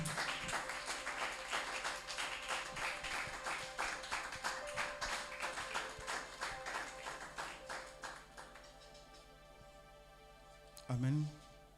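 A church congregation at a French sermon bursts into rhythmic clapping and cheering, loud and sustained at first, then fading out as a voice rises near the end.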